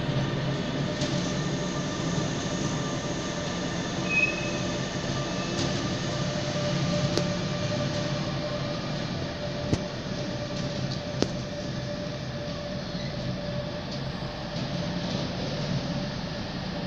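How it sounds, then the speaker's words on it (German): An IRE passenger train from Lindau Hauptbahnhof to Stuttgart, pushed by a class 146 electric locomotive, rumbles steadily past a station platform with a constant broad roar, a faint high whine and occasional sharp wheel clicks. "ein IRE von Lindau Hauptbahnhof nach Stuttgart, der geschoben wird von einer Baureihe 146."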